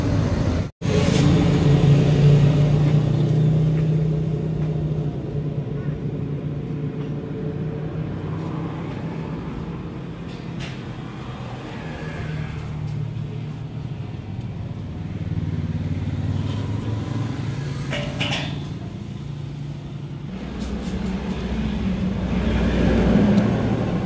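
Yamaha Mio Soul 115i scooter engine running after its idle speed control valve was manually reset, a steady low rumble with a sharp start-up burst near the beginning and mild revs later.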